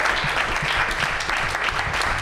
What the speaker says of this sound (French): applaudissements très rapides pour Vince qui était derrière l'autre caméra